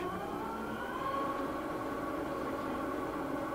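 A 2008 Haas TL-4 lathe with 35-inch swing and 91-inch centers runs in the low speed range, giving a steady, continuous mechanical hum and whine with faint tonal overtones, close and unbroken with no talk.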